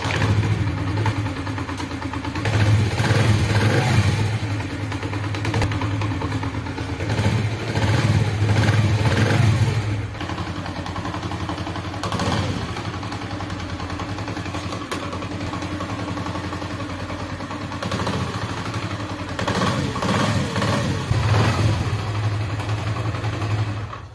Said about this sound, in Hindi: बाइक को करते हैं हम स्टार्ट